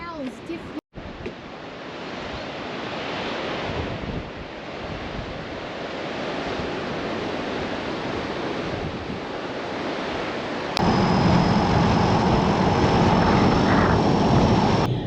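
Ocean surf at Nine Mile Beach in Western Australia, a steady broadband wash of breaking waves with wind buffeting the microphone, growing louder and denser near the end.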